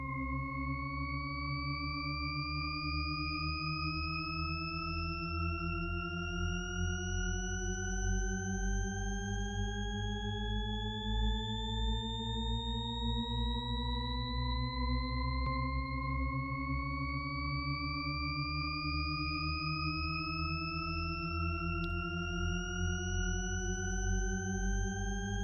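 A Shepard tone built in Audiotool, with wet reverb and the dry signal turned all the way down, plays several stacked pure tones that glide endlessly upward, steady and smooth over a low humming bed.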